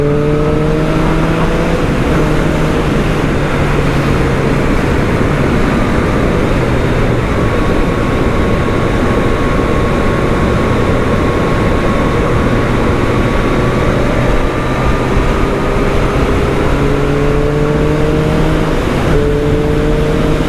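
Continuous engine howl from a Triumph Street Triple motorcycle accelerating, its pitch climbing through several gear changes, loud and close amid steady wind rush, with no talking.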